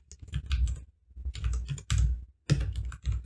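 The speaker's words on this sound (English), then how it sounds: "If I can type the name thing," Close, quick keystrokes on a computer keyboard come in three short bursts separated by brief pauses, with no voice over them.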